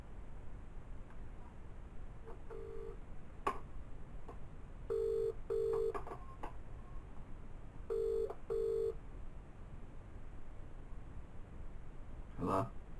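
A phone call placed on speakerphone, with dialing tones followed by repeated ringback beeps in steady pairs, faint against a hissy background.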